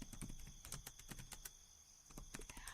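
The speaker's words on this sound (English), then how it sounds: "I heard your typing a mile away, and I can see you." Rapid clicking of computer keys in irregular bursts, close and crisp, with brief pauses between flurries.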